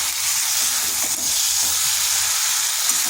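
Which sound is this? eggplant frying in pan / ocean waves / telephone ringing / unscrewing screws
eggplant frying in pan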